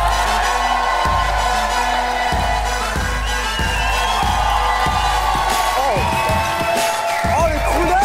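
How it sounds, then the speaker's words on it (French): A theater crowd at a Gaîté Montparnasse comedy show applauds and cheers loudly as a guest arrives on stage, with rhythmic heavy thumps and shouts running through it while voices talk and call out over the noise. "On l'applaudit très fort."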